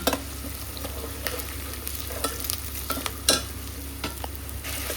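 Keema frying in a pan with ginger garlic paste, turmeric, salt and onion masala, a steady close sizzle broken by repeated scraping stirs of a spoon.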